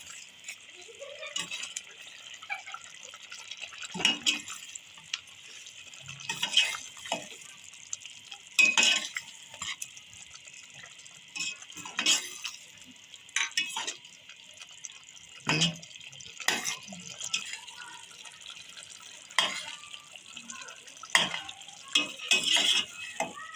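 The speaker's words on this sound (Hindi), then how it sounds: "अब इसमें जो हमारा मसाला रह गया था अचार गोश्त का, वो हम अब ऐड करेंगे इसके अंदर" A spoon stirs achar gosht masala into chicken cooking in a pot, making repeated scraping and clinking strokes in an irregular rhythm over a steady sizzle, fairly close and with no talk.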